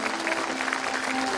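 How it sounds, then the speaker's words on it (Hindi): Audience applause at a Shrimad Bhagwat Katha religious gathering, honouring the Gupta family; steady, dense clapping from a crowd continues evenly throughout, moderately loud, with a faint tonal hum underneath. "एक बार जोरदार ताली बजाएं संपूर्ण गुप्ता परिवार के लिए।"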